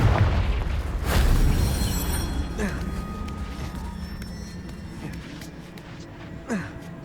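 A Confringo blasting spell explodes in Hogwarts Legacy, a deep, loud boom near the start that fades into a long rumbling tail, with a smaller thud later on.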